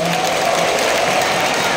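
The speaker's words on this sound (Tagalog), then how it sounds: "Palakpakan ng malakas ang Panginoon." Congregation at a charismatic Filipino church assembly clapping loudly in praise of the Lord, a dense burst of applause with some cheering, and a voice speaking over it.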